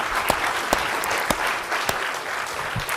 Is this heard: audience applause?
yes